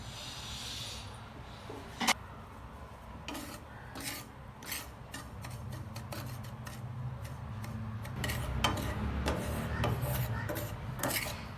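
Dry semolina (rava) being roasted in a pan, a soft, close-up gritty scraping and rasping as a utensil stirs it, with repeated brief clicks of metal against the pan and no talking.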